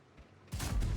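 A sudden loud tank cannon shot in a video game, a cannon-like blast with a rumbling boom that sustains to the end, after a quiet, muffled lead-in.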